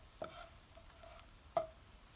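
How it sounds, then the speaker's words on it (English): Croutons fry in a pan over medium-low heat, a faint steady sizzle broken by a few soft scraping stirs and one brief louder clack, close and quiet with no talk. "now I'm just stirring it occasionally until it's nice and golden brown and crispy"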